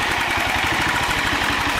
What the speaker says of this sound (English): Just wanted to get a quick video of her running and idling